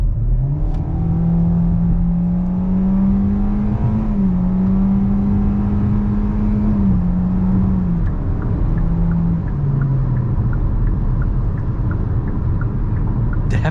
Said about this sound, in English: Let's go ahead and do an acceleration right here.